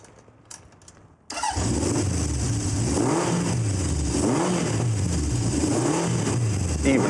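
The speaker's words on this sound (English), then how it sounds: "This is my 1970 750 Honda. I've had it for many, many years now. I'm going to start it up for you." A 1970 Honda CB750 inline-four motorcycle fires up after a few faint clicks, then settles into a loud, close, throaty running note with several rhythmic rises and falls in revs.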